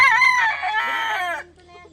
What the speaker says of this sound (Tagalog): Ang dami pala manok ni Monmon din, ano?